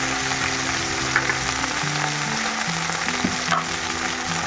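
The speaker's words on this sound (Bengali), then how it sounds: "এটা তুমি কড়াইতে ভালো করে ভাজা ভাজা করে নিচ্ছি।" Ground taro leaf paste with green chilli fries in a wok, giving a constant, dense, close sizzle. A faint steady tonal hum sits underneath.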